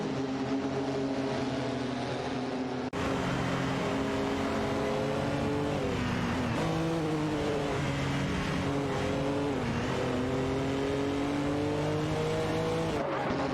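Race cars roaring around a track in a racing video game, Ferrari and 962 LM style prototypes, engines droning loud and continuous with shifting pitch as they accelerate, plus occasional tire squeal, no talking.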